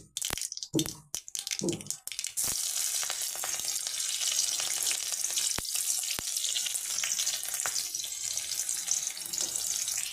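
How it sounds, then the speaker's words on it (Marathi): Mustard seeds sizzle and crackle in hot oil as a tempering for a chapati churma, starting with a few sharp pops before settling into a steady, loud, close hiss that runs unbroken to the end, with no voices. "अशी खमंग फोडणी टाकून घ्यायची."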